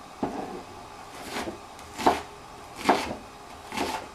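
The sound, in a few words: chopping mushrooms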